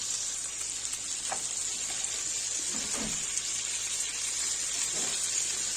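Cutlets made with buckwheat porridge frying in a pan, giving a steady close hiss of sizzling oil with brief bubbly bursts and light stirring noises, and no voices.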